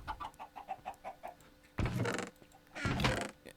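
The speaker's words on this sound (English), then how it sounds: "She got chickens galore. She always has chickens." Chickens in Minecraft cluck in a quick run of short, rhythmic calls, followed by two louder, broader bursts of squawking and flapping nearby.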